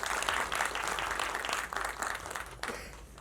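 A crowd at a film success party applauds an actor, many hands clapping in a dense burst that fades toward the end, with a brief louder flurry near the close.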